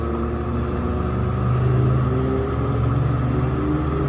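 A car engine with water in its exhaust runs and revs slightly, a steady low rumble that swells briefly then settles, heard close with no talk.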